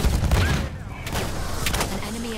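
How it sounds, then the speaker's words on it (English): Battlefield 1 video game battle audio with dense gunfire and booming explosions, loud and continuous, with low-end bursts early on and sharp cracks scattered throughout. "So many explosions."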